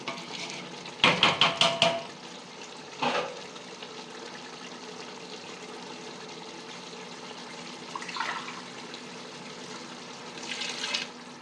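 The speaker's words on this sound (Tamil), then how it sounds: "இதிலே தண்ணி விட்டு" Water splashes and pours into a cooking pot for chicken biryani in a few quick gushes, followed by quieter trickling bursts later on, nearby with no talking.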